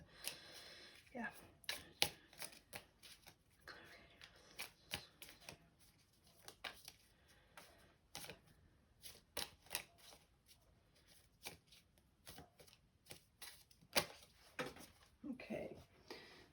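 Tarot cards being shuffled just off to the side, giving a run of quiet, irregular riffling and flicking clicks in short bursts, close by and soft throughout.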